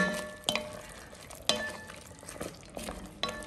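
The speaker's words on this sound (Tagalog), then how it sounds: "ilalagay ko na ang potato. Wow! At haluin mabuti." Squid and potatoes stirred in a pan, a spoon scraping and clinking against the metal about four times in a steady rhythm over a low simmer, close and moderately loud with no talk.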